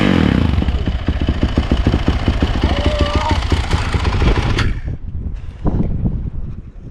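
A Yamaha YZ450F dirt bike engine is started and runs roughly, a loud, close, rapid pulsing putter that cuts out after a few seconds, followed by clattering and a brief sputter.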